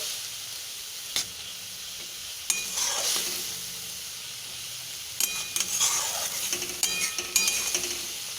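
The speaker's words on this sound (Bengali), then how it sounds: "যতক্ষণ না জলটা টেনে নিচ্ছে ততক্ষণ অবধি আমাদেরকে ভাজা করতে হবে" A paste of green banana peel fries in a pan with added water, giving a continuous moderate sizzle, punctuated by several close scraping stirs and light clinks against the pan, with no talking.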